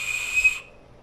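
A small whistle moulded from ice by an Ambiano ice maker is blown, giving a single airy high tone that holds for about half a second and then stops abruptly.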